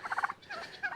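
An aggressive tom turkey gobbles close by on a barn property, a quick burst of rapid warbling notes followed by a couple of shorter throaty calls.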